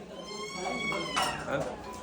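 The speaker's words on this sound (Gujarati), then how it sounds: "એ બિલાડી છે" A cat meows indoors at home, a short rising-and-falling cry heard close and fairly clear, with household voices faintly around it.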